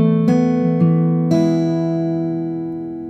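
Acoustic guitar picking, three plucked notes with a pull-off on the third string, slow and close, each ringing out and fading, no voices.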